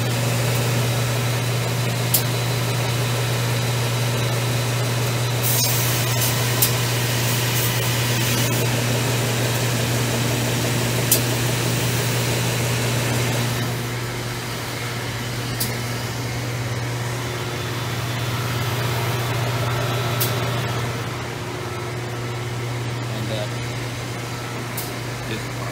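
A belt sander runs with a steady mechanical hum as thin 12-gauge stainless steel parts are ground for dross removal and edge rounding, with scattered contact scrapes and the tone dropping when the belt is slowed.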